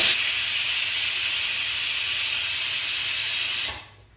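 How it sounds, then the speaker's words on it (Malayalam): A pressure cooker whistles while pumpkin cooks inside for pumpkin payasam, a loud, steady hiss of escaping steam that holds unbroken for several seconds before abruptly cutting off. "നമ്മുടെ പംകിൻ വെന്തുകൊണ്ടിരിക്കുന്ന ചൂളം വിളിയാണ് കേൾക്കുന്നത്."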